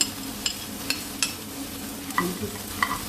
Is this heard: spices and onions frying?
yes